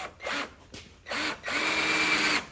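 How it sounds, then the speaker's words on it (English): A power drill bores out a soft screw during a trans cooler install on a 1999-2006 GM GMT800 truck, whining in three bursts, two short and a longer steady run, close and loud. "I can drill it out a little bit more"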